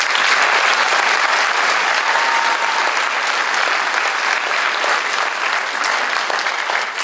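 Loud, dense applause from a crowd of teachers and guests at a senior honors night, sustained and even throughout with no talk.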